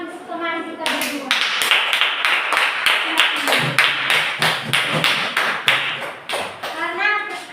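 Classroom students clapping together in a quick, rhythmic unison pattern of sharp claps, close and lively, with brief voices at the start and end.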